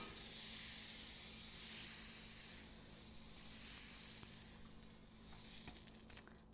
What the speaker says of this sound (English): add just a touch of butter to it, and that's gonna go on there and just sizzle and melt right away